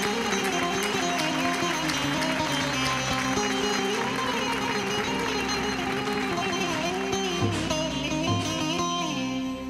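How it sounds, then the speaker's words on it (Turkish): A studio audience clapping on a Turkish TV talk show, sustained applause running throughout, mixed with music and voices in the hall. "Alkış, alkış."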